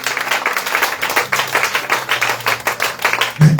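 A church congregation clapping and applauding in praise, loud rhythmic claps from many hands filling the room, steady throughout with a brief voice near the end.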